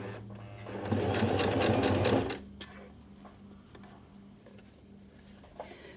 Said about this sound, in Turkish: Genişliğinin mümkün olduğunca aynı olmasına dikkat ederek dikmeye çalışacağım şimdi